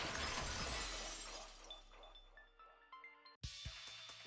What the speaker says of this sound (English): 彼女はその窓ガラスの割る音を聞いた。 Window shattering.